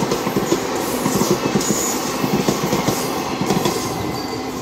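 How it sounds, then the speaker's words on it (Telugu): An MMTS local train in Hyderabad passes close by, with a continuous rumble and rapid clickety-clack of wheels over rail joints. Faint wheel squeal rides over the roar, and no one speaks. "ఇప్పుడే ఒకటి ఓవర్టేక్ చేసి పోయిందా, ఇంకో ట్రైన్ వస్తుంది"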